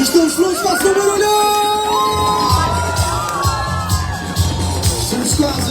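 A festive outdoor crowd in Funchal, Madeira, cheers, whoops and shouts just before the New Year countdown, loud and sustained, with children's high shrieks and a few voices rising over the din.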